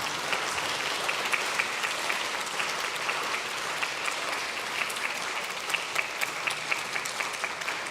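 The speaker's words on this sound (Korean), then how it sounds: "격려의 박수 한번 부탁드립니다." Steady, full applause fills a chamber of the Korean National Assembly during a plenary session, as lawmakers clap for bereaved families seated in the public gallery. It stays even and sustained for about eight seconds, with no talking over it.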